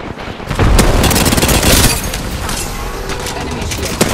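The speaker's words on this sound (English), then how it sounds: "Throwing frag." Frag grenade explosion and gunfire in Apex Legends, a loud blast onset followed by dense rapid gunfire bursts and scattered sharp shots, close and intense.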